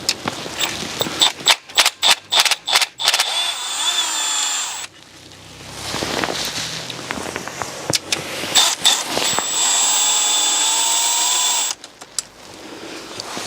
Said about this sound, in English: now just going to begin releasing all of the 8mm nuts that hold the injector clamps down